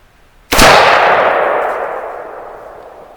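Single loud shot from an IWI Galil ACE Gen II rifle chambered in 5.45x39, a sharp crack followed by a long ringing, echoing decay, alone and close.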